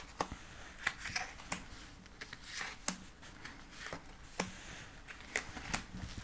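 Tarot cards are shuffled and drawn at a table, giving a string of soft, irregular snaps, flicks and papery slaps close by, with quiet pauses between them.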